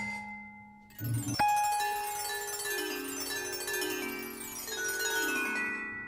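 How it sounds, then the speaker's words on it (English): A virtual instrument with a tone between a steel pan drum and wind chimes plays a struck note that rings out, followed by a cascade of shimmering bell-like notes layered and sustaining into a long, bright decay. "It almost sounds like a cross between a pan drum and a wind chime when you're playing this."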